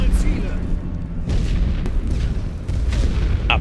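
Deep artillery booms roll out in a World War I video game battle, several heavy low thuds spaced across a few seconds with rumbling tails and a sharp crack near the end.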